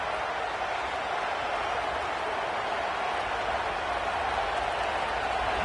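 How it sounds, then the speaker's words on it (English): A large stadium crowd at a football game keeps up a continuous, dense roar, loud and unbroken throughout, with no distinct voices standing out. "This crowd ready to make its presence known"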